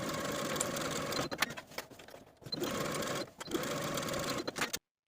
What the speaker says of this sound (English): Sew the shoulder seams with a 5/8 inch seam allowance